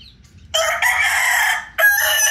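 A young stag rooster crowing close by, one loud, strained crow in two bursts after a brief quiet start, with no talking.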